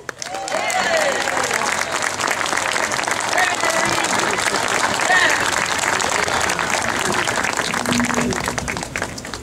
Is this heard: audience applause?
yes